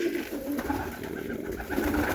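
Pet pigeons kept in a backyard loft coo in low, throaty rolls, several birds murmuring close by in a steady soft chorus with no voices.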